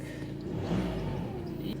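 A 1946 Ransomes crawler engine runs steadily, a continuous low rumble with slight swells in loudness and no clear pauses.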